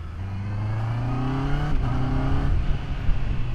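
A stock-exhaust 2024 Honda CBR650R with E-Clutch and auto blip revs up loud and close, its engine pitch climbing in rising sweeps, dipping briefly, then pulling again as it accelerates.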